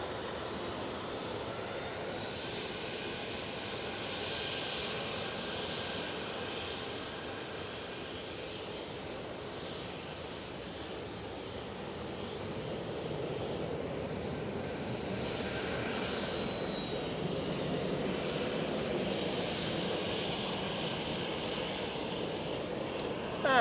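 An easyJet airliner departing Manchester Airport, a sustained engine roar at moderate distance that swells gradually over the span, no voices.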